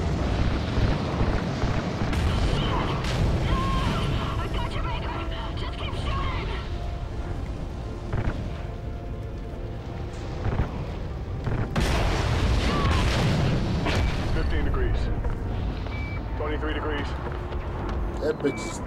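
Call of Duty Ghosts campaign combat, played on Xbox 360: repeated booming explosions and bursts of gunfire roll through a dense, loud battle mix while soldiers shout orders over the noise.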